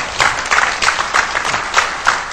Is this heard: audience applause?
yes